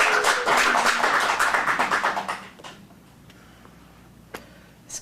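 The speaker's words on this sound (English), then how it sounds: "Let's get a round of applause, please." An audience claps for a kids' dramatic film acting showcase, with dense applause for about two and a half seconds that then thins to a few scattered claps.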